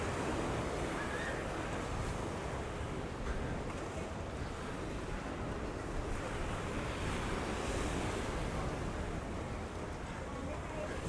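Sea surf at Can Picafort, Mallorca, makes a constant, full wash of breaking waves mixed with wind buffeting the microphone, steady throughout with no clear voices.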